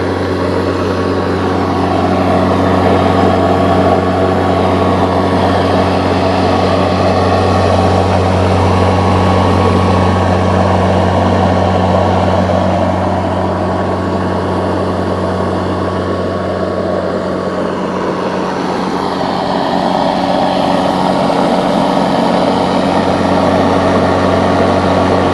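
A new Snapper 60V battery-powered push mower runs on its first break-in run, giving a steady, unbroken motor hum and whir with a strong tonal drone that barely changes, with no talking.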